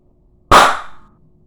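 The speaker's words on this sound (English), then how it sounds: "This creates a very loud explosion, which is why I'm wearing these earplugs." A single sharp, loud bang from a small HHO gas explosion set off by burning yarn, close by, with a brief decaying ring after quiet.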